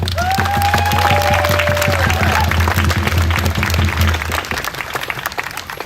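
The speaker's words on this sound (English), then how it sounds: "Can we give a big round of applause?" A crowd at a memorial event gives a sustained round of applause that carries for about four seconds and then tapers off, with a low tonal hum and some talking mixed in beneath the claps.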